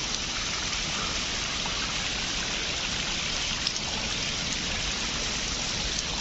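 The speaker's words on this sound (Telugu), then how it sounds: "చిన్న జలపాతం" A small waterfall spills down rocks near a forest pool at Penchalakona, giving a continuous, even hiss and splash close by, with nobody talking.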